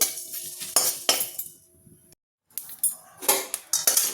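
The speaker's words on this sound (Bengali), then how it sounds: "তো এটাকে আমি একটু নেড়ে চেড়ে রোস্ট করে নিই।" Whole dried red chillies are stirred and dry-roasted in a pan, with a spoon scraping and clinking against the metal in bursts, a brief silent gap in the middle, then more close scraping.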